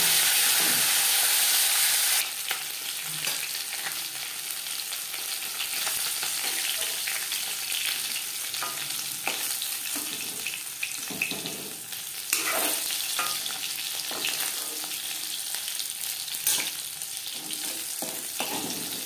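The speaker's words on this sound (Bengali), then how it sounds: "মাছ ও মাছের মাথা ভাজা হয়ে গেছে।" Pieces of fish and a fish head fry in hot oil in a pan for a winter fish curry, giving a steady, close sizzle with occasional stirring scrapes and no talking.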